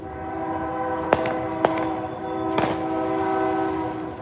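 A train sounds a long steady horn while rolling past, the loud sustained tone carrying under sharp bangs and pops from fireworks set off nearby.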